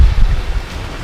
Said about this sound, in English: It's bad enough here with the wind behind me.